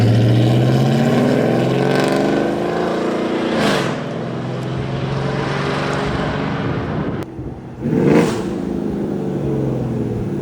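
A 500-horsepower GMC Sierra regular-cab short-bed sleeper truck engine revs loudly and close, with a rising V8 roar, a sharp upward sweep near the middle, a brief dip and another surge.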